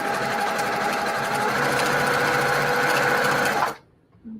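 A sewing machine stitching mosaic-square quilt block pieces along a line, a loud steady mechanical whir running for several seconds before stopping abruptly into quiet.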